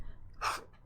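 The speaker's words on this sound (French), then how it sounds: "Ouh, je dois éternuer." A single close sneeze bursts out, a sharp breathy explosion after a brief quiet inhale, with a soft sound at the very end.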